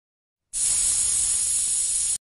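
A steady, bright hiss lasts under two seconds, made by a voice imitating air escaping from a flat tire.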